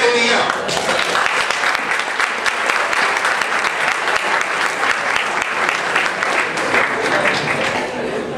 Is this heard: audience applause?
yes